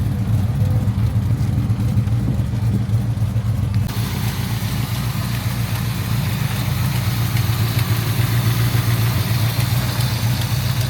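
A muscle car engine idles with a deep, even rumble throughout, loud and close, with a slight rise in intensity partway and no voices.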